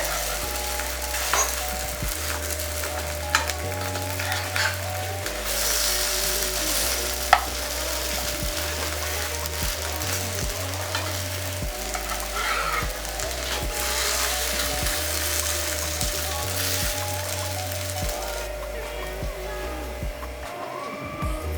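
Eggless potato pancake sizzling steadily in a little oil in a pan, with a few soft scrapes and taps as it is turned, continuous and close without any voices.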